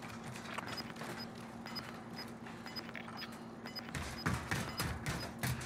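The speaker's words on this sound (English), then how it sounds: "Loud ass footsteps." Loud, heavy footsteps from a battle royale video game, a steady rhythmic thudding of close running steps over a constant electronic hum and faint periodic beeps.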